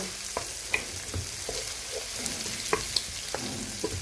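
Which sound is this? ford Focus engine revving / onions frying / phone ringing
onions frying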